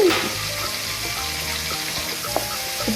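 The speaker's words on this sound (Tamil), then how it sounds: "இப்போ வெங்காயம் நல்லா வதங்கிருச்சு நம்ம எடுத்து வச்சுருக்க தக்காளியும் சேர்த்து நல்லா வணக்கிடலாம்" Onions and tomatoes sautéing with salt in a pan for a dried anchovy fish curry, giving a steady, loud sizzle with occasional scraping of a spatula, close up and without speech.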